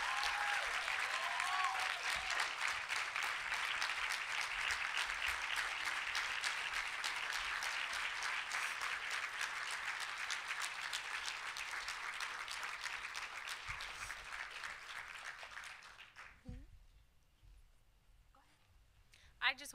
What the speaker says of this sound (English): Please give them a rousing round of applause